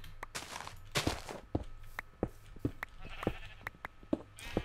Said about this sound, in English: Sheep, you've escaped!